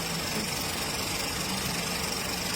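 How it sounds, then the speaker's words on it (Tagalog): A Ford EcoSport engine idles with a steady, dense mechanical drone and a rapid, even clatter, heard close and alone. "Yan yung tamang tunog ng ano, ng engine niya."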